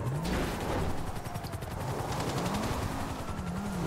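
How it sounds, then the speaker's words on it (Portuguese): A helicopter in GTA 5 Online churns with a dense, continuous rotor chop under heavy, rapid gunfire throughout. "Nossa, velho, helicóptero"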